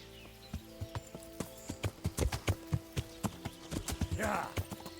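Horse hooves clip-clopping at a steady riding pace in the medieval game Kingdom Come Deliverance, a run of sharp, close hoof strikes over a low ambient hum, with a brief breathy snort near the end.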